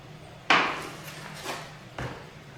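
Nut and washer being worked off the shaft of an RC plane motor on a Banana Hobby 1100mm P-40, heard as a sharp metallic click followed by two softer taps, close and fairly quiet.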